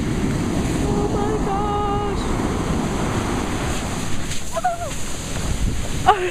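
Pacific Ocean surf at Pacifica beach, California, washes in around bare feet, a close, steady hiss and churn of water with wind buffeting the microphone and a few brief excited vocal sounds near the end.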